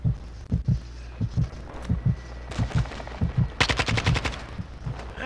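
Video game gunfire in a co-op shooter: rapid bursts of shots, near and fairly loud, with a dense machine-gun-like rattle toward the end.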